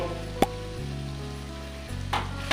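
Carrot halwa being stirred in a pan with cardamom powder after the gas is switched off, giving a soft low sizzle with a few sharp scrapes and clinks of the spoon.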